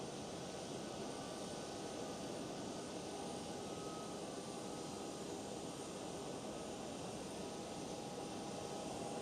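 An Airbus A330 freighter at Amsterdam Schiphol, a factory-built model with a bulged lower nose, gives a steady, full-bodied jet engine roar that holds evenly throughout, with no voices.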